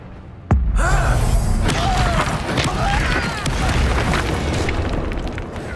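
Confringo blasting spell explosion in the Hogwarts Legacy video game: a sharp loud boom that opens into a long rumbling, crackling blast with debris and swishing effects trailing off.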